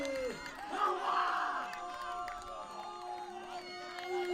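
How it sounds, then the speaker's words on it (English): Irish supporters roar and cheer at a men's IFCPF World Cup quarter-final against Spain in Salou after a free-kick goal, a broad crowd swell with shouts and whoops, moderately distant and sustained. "The Spanish crowd stunned into silence as their Irish counterparts roar for their number 10."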